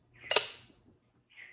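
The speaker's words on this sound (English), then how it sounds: "It's a Pyrex butter dish." A glass Pyrex butter dish is handled, giving one sharp clink followed by a brief ringing tail and a fainter glassy touch a second later, close and quiet with no talk.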